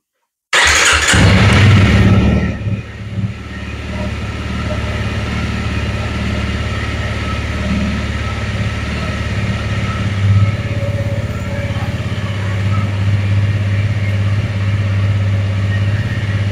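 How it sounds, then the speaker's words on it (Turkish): A Honda CRF250L motorcycle engine cranks and catches with a loud burst, then settles into a steady, close idle that runs on evenly for over ten seconds. "Motoru çalıştıracağız."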